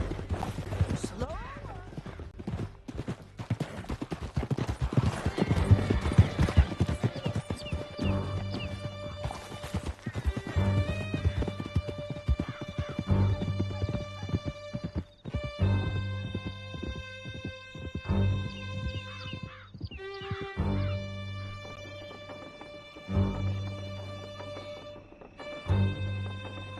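Horses gallop hard in the video game Red Dead Redemption 2, with loud, rapid, rhythmic hoofbeats, snorts and a whinny, and a musical score swelling beneath the chase.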